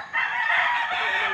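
A White Kelso cross gamefowl rooster crows once, a loud, close, sustained call filling most of the brief moment.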